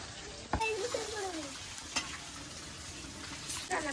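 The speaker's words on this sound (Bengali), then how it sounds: "আমার হাঁসের মাংস কষানো হয়ে গেছে" Duck meat sizzling and frying steadily in a pan, a continuous close hiss with a few sharp stirring clinks, alone without talk.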